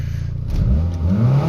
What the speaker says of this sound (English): It makes all the turbo noises.